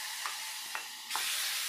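Green chillies, cumin and mustard seeds sizzle steadily in hot oil for a Telugu gongura dal tempering, with a few sharp spits and pops and a louder burst of frying near the end.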